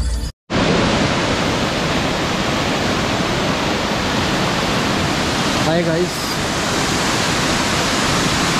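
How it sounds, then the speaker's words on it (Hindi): A waterfall roars as a dense, loud, constant rush of falling water near a mountain road between Dehradun and Lambi Dehar Mines, continuing almost unbroken, with a man's brief greeting at the start and a short whistle-like sound partway through. "देख लो ये है झरना जिसकी मैं बात कर रहा था पहले,"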